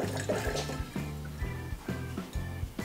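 A syringe forces water back through a Sawyer portable water filter during backwashing, giving a close, watery gurgling and spurting sound with repeated pulses as pressure is applied.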